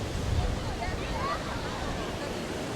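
Ocean waves and wind along a Caribbean beach at Playa del Carmen after a hurricane, a steady low roar of surf with wind buffeting the microphone and a faint voice underneath.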